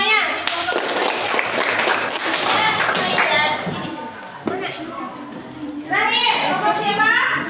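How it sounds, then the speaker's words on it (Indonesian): Students in a classroom clap together after a group presentation, a dense sustained patter of hands that fades, then swells again, with children's voices chattering underneath throughout. "tepuk tangan semuanya"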